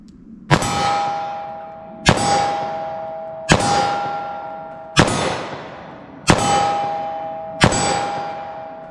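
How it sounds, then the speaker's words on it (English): A Taurus 856 revolver with a 3-inch barrel fires .38 Special +P+ Speer lead semi-wadcutter hollow points at a 14-yard target: six loud, evenly spaced shots about 1.4 seconds apart, each followed by a ringing decay. "can you fire these through a 38 special revolver?"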